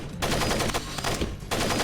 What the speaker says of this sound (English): these terrorists firing at literally nothing at fences